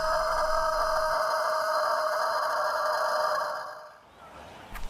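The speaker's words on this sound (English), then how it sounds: "crow, or cock-a-doodle-doo, is the sound that a rooster makes in the morning." A rooster crows a long, loud cock-a-doodle-doo, one sustained call that holds steady for several seconds before fading out, with no speech.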